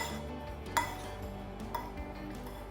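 Orange cake sponge batter mixed in a bowl: a quiet, steady scraping and churning, with two light utensil clinks against the bowl, close by and with no talk.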